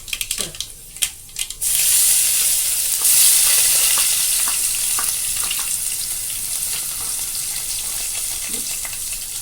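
Crushed dried red chillies hit hot oil for rasam after a few clinks, bursting into a loud, steady, close sizzle that continues without talk.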